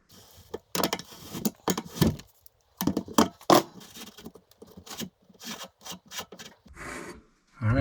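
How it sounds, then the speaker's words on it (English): A pipe wrench scrapes and rasps as it unscrews a threaded ring on a leaky kitchen sink strainer, giving irregular near bursts of metal rubbing and grinding separated by short pauses, with no talking. "you're just gonna lock a pipe wrench on that nut, and then just unscrew this ring up here"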